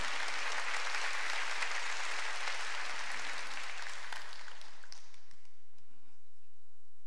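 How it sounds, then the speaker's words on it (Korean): Congregation applause during a Wednesday church worship service, a dense, steady wash of many hands clapping that fades out over the last couple of seconds. "박수 쳐줘요"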